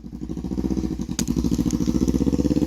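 Motorcycle engine with a straight-pipe exhaust and rear fender eliminator running steadily close by, a loud rapid pulsing chug that briefly dips in pitch, then keeps throbbing evenly.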